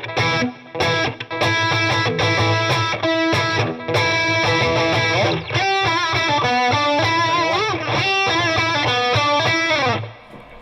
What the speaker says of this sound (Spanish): Igual me gusta con distorsión la del puente